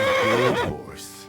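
A horse whinnies loudly and close in Kingdom Come: Deliverance II, a single long neigh with wavering pitch that falls away into a snort-like breathy tail.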